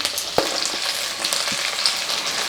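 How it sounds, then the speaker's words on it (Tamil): Shallots and dried chillies frying for a chutney in a pan, a steady close sizzle with a few sharp spatula scrapes and stirs, no voices. "சின்ன வெங்காயம் வந்து நல்லா பாதி அளவுக்கு வதங்கிடுச்சுங்க இப்போ வந்து காஞ்ச மிளகாய் சேர்த்துக்கலாம்"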